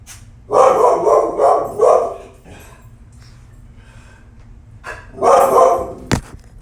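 A dog barks at peacocks in a quick burst of several loud barks, falls quiet, then barks again in another short burst, close by.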